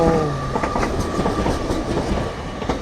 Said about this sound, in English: Arriving in now is your 1327 LNER Azuma service from London King's Cross to York.